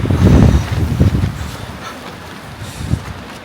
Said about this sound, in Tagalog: Ngayon malakas pa rin yung hangin.